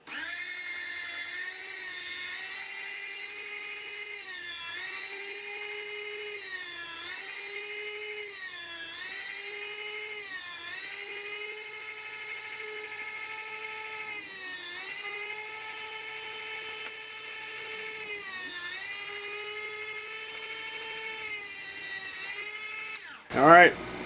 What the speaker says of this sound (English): got the meat slicer out, got the pork cooled off